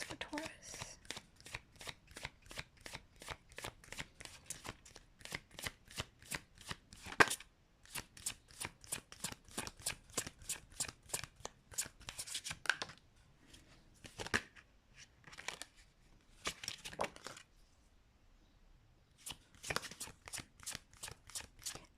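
Tarot cards shuffled by hand in rapid rhythmic riffles and flicks, close and crisp, running in long bursts with brief pauses, and a voice speaking softly at times underneath.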